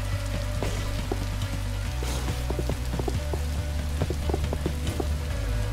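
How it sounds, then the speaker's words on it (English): Steady rain falls in Minecraft Story Mode, a dense continuous patter with scattered sharp drips and splashes, alone without talk throughout. "It's raining. It's very ominous."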